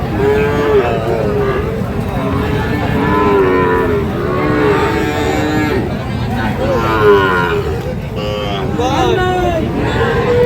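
Sahiwal breed calves and cattle at the Ambari livestock market moo repeatedly in long, close calls, overlapping one another above a constant babble of crowd voices and traffic.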